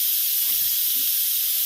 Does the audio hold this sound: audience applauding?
no